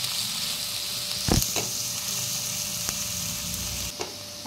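Chopped onion with cinnamon sautéing in a pan, a steady close sizzle broken by a few sharp spoon scrapes and knocks against the metal, with no voices.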